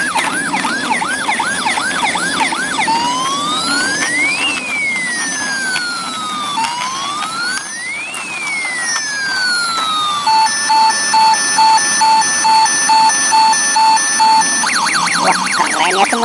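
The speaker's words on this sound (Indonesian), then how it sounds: "Wah, ini ada mobil ambulans teman-teman nih." A toy ambulance siren wails and yelps in looping electronic tones, then switches to a steady pulsing two-tone pattern, loud and close with no talking.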